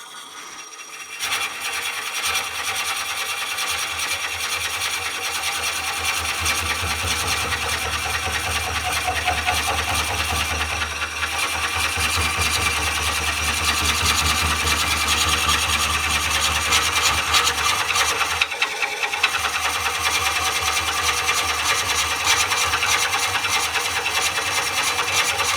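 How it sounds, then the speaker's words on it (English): A Woodcut Bowlsaver Max 4 coring a wooden bowl on a lathe, with a loud, continuous grinding, rasping cut that runs nearly the whole time with slight shifts in pitch and a short break near nineteen seconds. "So let's start coring, and the first thing you want to do is make sure you just gently start cutting."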